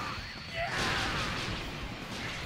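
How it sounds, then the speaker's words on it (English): A Spirit Explosion attack in the video game Dragon Ball Xenoverse 2 bursts into a loud, broad roaring blast that swells suddenly and sustains a rumbling, hissing wash to the end, with faint voice sounds mixed in. "Spirit explosion."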